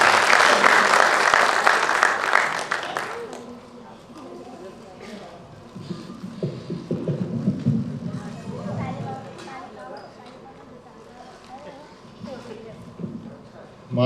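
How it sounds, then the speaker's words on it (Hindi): A Hindi comedy poetry gathering (kavi sammelan) in Navi Mumbai: loud audience clapping welcomes a poet for about three seconds, then fades into quieter crowd murmur and scattered movement with light claps. "जोरदार तालियों के बीच में रोहित शर्मा को बुलाएं और उनसे उठाएं।"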